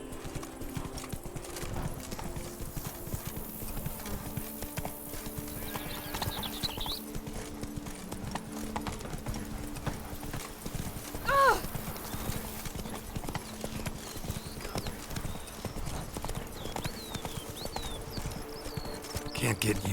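The horse Roach trotting in The Witcher 3: Blood and Wine, with steady rhythmic clip-clop hooves and a short whinny partway through, under game music and occasional voices talking.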